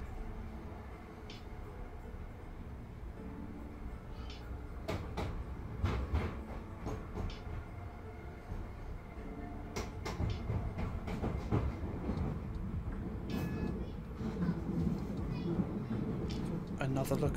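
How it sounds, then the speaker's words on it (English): Train wheels clatter over rail joints in a steady rumbling run in a train simulator game near Thanet Parkway, with a person talking over the noise throughout. "There go the track joint sounds that I recite in every train sim video."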